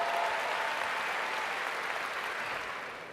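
A crowd at an event gives a round of applause, thick and sustained clapping that holds strong and begins fading toward the end.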